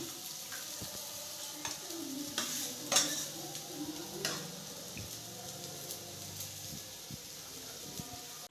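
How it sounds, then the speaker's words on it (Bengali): Spice paste being stirred into cooked rice and lentil khichuri in a pot, with soft scraping and thick wet squelching strokes over a low simmering sizzle and a few clinks, close and without talk. "চাল ডাল সেদ্ধ হয়ে গেছে, এবার আগে থেকে কষিয়ে রাখা মশলাটা মিক্স করে নেব।"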